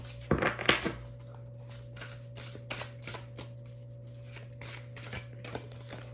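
Tarot cards are shuffled by hand close to the mic, a crisp riffle at the start followed by a series of softer, irregular card flicks over a steady low electrical hum.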